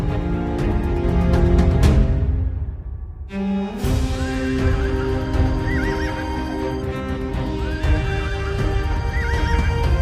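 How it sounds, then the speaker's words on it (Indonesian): A horse whinnies loudly several times, its shrill neighs standing out over a dense, continuous background in a dramatic retelling of the death of the warrior Khalid bin Walid. "Kuda ini telah diwakafkan Khalid bersama pedangnya untuk jalan Allah"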